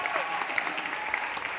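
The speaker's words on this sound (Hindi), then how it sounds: "मैं चाहूंगा फिर से एक बार उन तमाम लीडर्स के लिए तहे दिल से एक बार जोरदार ताली होनी चाहिए" A crowd at an Indian recognition event gives the leaders a hearty round of applause, dense steady clapping filling the short moment.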